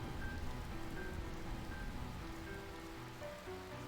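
Steady rain falling in a Final Fantasy 9 game scene, an even broadband hiss that stays at a constant moderate level throughout with no talk over it.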